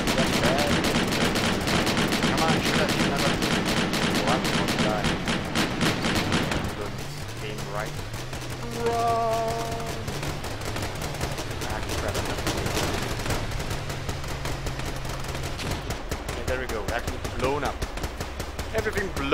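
Rapid automatic gunfire from combat vehicles in the vehicle-building game Scraps, a loud, dense stream of shots for several seconds that gives way to scattered bursts and rumbling impacts, with voices mixed in.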